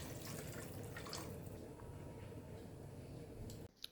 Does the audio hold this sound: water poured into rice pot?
yes